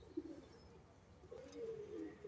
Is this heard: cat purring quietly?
no